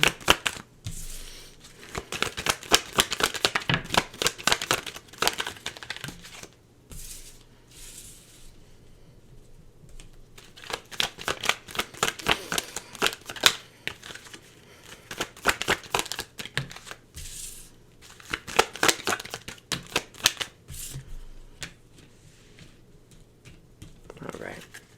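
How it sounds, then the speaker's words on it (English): Tarot cards being shuffled and pulled, with bursts of crisp riffling and slapping in uneven clusters, fairly close, alternating with quieter pauses and faint low background hum. "Just give me a minute to pull some cards here."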